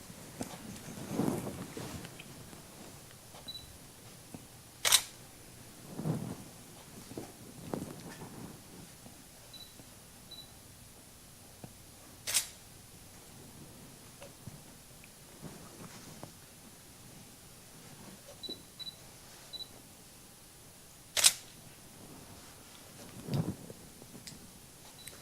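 Sharp, isolated camera shutter clicks sound at wide intervals, with three loud, crisp snaps standing out over a quiet room with faint background shuffling.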